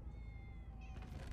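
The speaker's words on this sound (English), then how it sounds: "Ah, many cats. So many cats." Several cats meow in the Minecraft: Story Mode video game, thin drawn-out mews over a low, steady game background, faint and with no talking.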